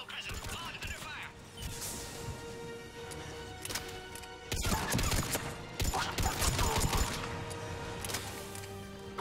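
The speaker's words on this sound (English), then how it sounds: "We're under fire." Battle gunfire in Mass Effect 3, with bursts of shots, impacts and crashes mixed with game effects at moderate volume, while voices talk over the combat.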